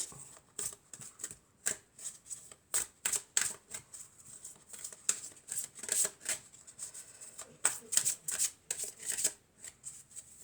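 Tarot cards are shuffled and handled close up, giving repeated soft riffling and flicking bursts in an uneven rhythm, with quiet gaps and no talking.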